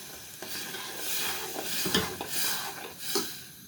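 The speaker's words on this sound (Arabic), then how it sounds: "وانزل بكوبايتين اللي هما عصير الطماطم المضروبين بالخلاط اهو" Blended tomato juice pours into a pan of peas cooked in red tomato sauce and sizzles, a steady hiss broken by soft stirring and bubbling bursts, close and moderately quiet with no talk.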